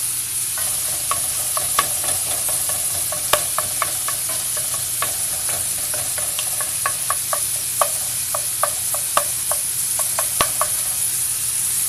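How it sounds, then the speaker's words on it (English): Johnsonville chorizo, skinned from links and crumbled, sizzles steadily in a pan with a constant hiss, while a utensil stirs it with frequent scattered clicks and scrapes against the pan and no one talks. "you can hear the sizzle"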